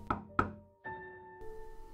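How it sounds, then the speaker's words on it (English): Two hard knocks land on a door in quick succession, close and resonant, then give way to a sustained low tone and quiet background hum. "My peaceful silence was soon interrupted by knocking on the door."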